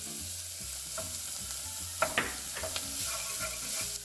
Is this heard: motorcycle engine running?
no